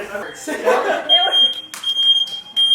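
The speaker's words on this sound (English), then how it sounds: "Where's that alarm?" A smoke alarm set off by candle smoke at an indoor party beeps in a high, piercing intermittent tone, starting midway and repeating under excited talk and movement.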